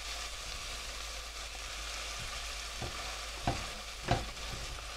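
Garlic frying in a pan, a soft continuous sizzle with a few quiet scrapes and taps from stirring, close and alone with no talking.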